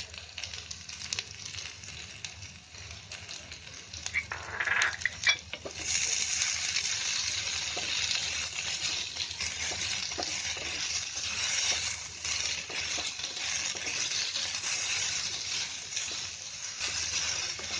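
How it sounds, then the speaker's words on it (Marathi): Chopped onion frying in a pan while cutlet ball filling is prepared, a steady hiss and sizzle that rises after a brief stir and keeps going close and even, with no speech. "कांदा असा थोडासा चांगला फ्राय करायचा"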